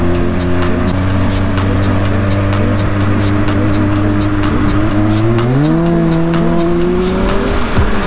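Kawasaki Ninja 1000SX ridden across the top of a dam, engine holding a steady loud drone that climbs in pitch as the rider accelerates near the end, with wind rushing throughout.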